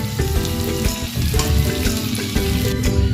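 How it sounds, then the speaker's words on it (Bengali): Prawns frying in hot oil in a wok-style kadai, giving a steady close sizzle and crackle with a faint hum underneath and no talking. "চিংড়ি মাছগুলো আমার ভাজা হয়ে গেছে"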